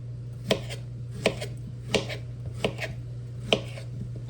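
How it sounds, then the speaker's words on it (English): Boiled potatoes with butter, milk, salt and pepper are mashed by hand into a chunky texture: a steady series of about seven sharp knocks against the pot, spaced under a second apart, over a constant low hum. "I'm just gonna smash those, add a little butter, a little milk, salt and pepper, and just smash those"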